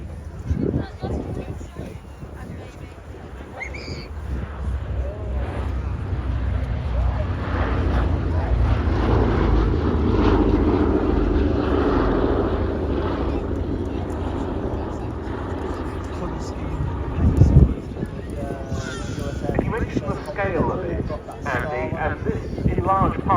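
Piston engines of the B-17 Flying Fortress Sally B drone steadily through an airshow display at Cosford, a broad rumble rising and fading as the bomber passes, with wind and a brief bump near the end.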